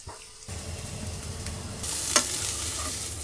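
Greens frying raw in a little oil in a pan, a steady close sizzle with occasional stirring scrapes, growing slightly louder partway through.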